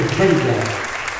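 Audience applause at a launch event in France, a brief dense burst of clapping under a voice speaking over it.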